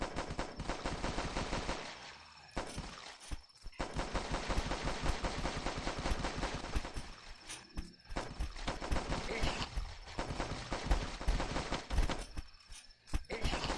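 Rapid automatic gunfire in the zombie video game The Last Stand, dense continuous bursts broken by brief pauses, loud and close throughout.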